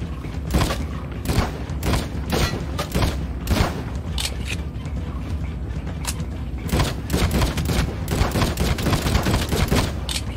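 Heavy gunfire in a Call of Duty match: rapid, loud bursts of shots crack one after another over about ten seconds in a dense, continuous barrage.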